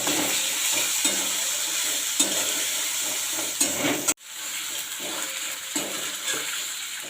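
Ginger paste, chili powder and turmeric frying in a pan for a potato dum curry, a continuous hissing sizzle broken by periodic stirring scrapes and one sharp clank midway, close and loud.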